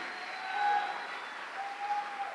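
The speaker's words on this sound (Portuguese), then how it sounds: "dê um aplauso a Ele nessa noite" Applause rises from a church service congregation, a steady spread of many hands clapping at moderate distance, fairly soft and even, with no talk over it.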